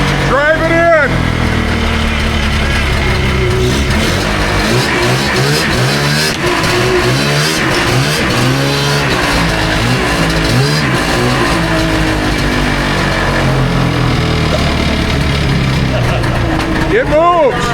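An Arctic Cat Pantera snowmobile engine, left sitting for 30 years with fuel in it, runs loud and steady throughout with rising and falling revs and a busy mechanical rattle, and voices can be heard over it.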